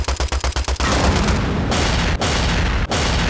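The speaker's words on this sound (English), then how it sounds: "There's explosions everywhere, things are flying off the screen." Loud arcade-style explosions and gunfire from the vehicular combat video game Fastlane: Road to Revenge, opening with a rapid burst of about six sharp shots, then a dense, sustained roar of blasts with brief dips, no speech.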